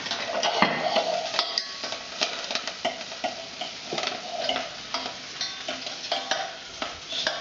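Asparagus sizzles steadily in a hot pan while it is pushed and stirred, with frequent sharp utensil clicks and scrapes against the metal, close and fairly loud with no voices.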